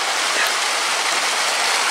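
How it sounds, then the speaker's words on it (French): A small forest stream flows steadily nearby, a continuous bright rushing and splashing of water with no other sounds over it. "ce qui me permet de vous montrer un petit ruisseau vraiment mignon"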